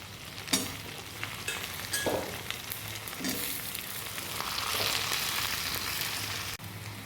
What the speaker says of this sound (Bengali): এই যে আমার ক্যাপসিকাম পেঁয়াজটা মোটামুটি ভাজা হয়ে গেছে।